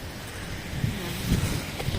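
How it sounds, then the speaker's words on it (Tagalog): Steady strong wind buffeting a backyard garden, a constant broadband rush with occasional low gusts, no voices. "Sobrang hangin kasi."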